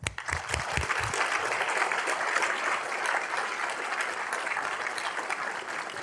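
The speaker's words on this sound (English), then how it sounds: "if we would give a round of applause to Dr. Bhatia" Audience applause for a doctor at a school's state-of-the-school event, a dense, steady wash of clapping that starts abruptly and holds loud and even throughout with no talking.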